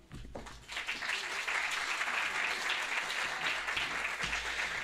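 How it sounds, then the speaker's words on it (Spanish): Warm applause from the audience at a medical school anniversary ceremony honouring staff, starting quickly and holding as a dense, even wash of clapping in a large hall. "Brindemos un caluroso aplauso"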